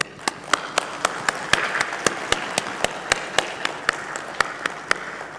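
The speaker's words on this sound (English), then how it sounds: "that deserves a big applause" Audience applause at a destination marketing tourism forum session: a steady run of sharp, evenly spaced claps stands out close by over a continuous wash of crowd clapping, holding fairly loud for the whole stretch.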